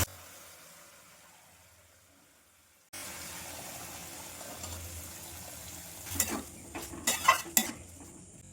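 Boiled chickpeas stir-fry with spices in a pan, starting quiet, then a low sizzle sets in with several sharp clanks and scrapes of a metal spoon against the pan near the end.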